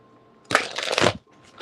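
Tarot cards riffle-shuffled in one quick, crisp burst followed by a short second flutter, close up with no voices.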